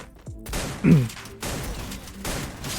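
Gunfire bursts in the battle-royale video game Free Fire, a few sharp volleys spaced across the moment, with faint background game noise and little talk.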